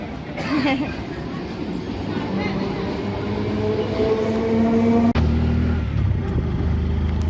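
A train rolls along the tracks, heard from on board as a steady, loud rumble and clatter with droning tones that continues unbroken throughout.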